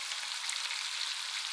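Jarred minced garlic frying in a pan with other ingredients cooking down, a soft, even, continuous sizzle that stays at one level for a brief moment.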